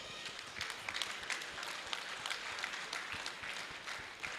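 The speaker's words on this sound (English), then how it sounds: "And I want you all to join me to please give Tunji a round of applause." Crowd applause at a live-streamed celebration, a continuous patter of many hands clapping with some sharper individual claps, moderately loud and sustained.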